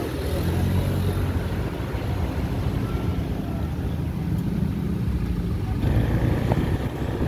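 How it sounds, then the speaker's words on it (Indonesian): Tour buses and other vehicles crawl along a congested holiday road between Padang Panjang and Bukittinggi, producing a continuous heavy engine rumble and road roar close by, with wind buffeting the microphone. "Nah ini ada bus pariwisata banyak sekali teman-teman ya."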